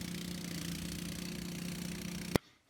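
Brott ride-on mower with a Honda engine running steadily up close, a constant droning hum with a strong low tone, ending in a sharp knock and sudden cut to near silence.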